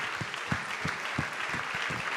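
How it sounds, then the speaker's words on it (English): Audience applause for summit delegates at a peace and social business gathering, a steady wash of many hands clapping at moderate distance, continuous for a couple of seconds with no voices on top. "let's give a big applause."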